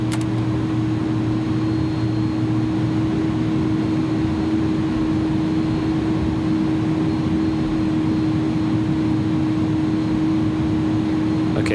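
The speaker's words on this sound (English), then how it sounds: "Anti-ice is off, ignition is off, APU is starting up." An auxiliary power unit on an iniBuilds A310 airliner in X-Plane 11 runs as a loud, steady whine over a constant low rumble, unchanging and alone throughout.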